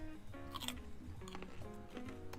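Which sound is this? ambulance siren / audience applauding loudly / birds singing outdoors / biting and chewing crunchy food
biting and chewing crunchy food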